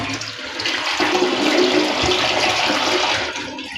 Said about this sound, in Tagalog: Ayan, nakalimutan kong i-flush.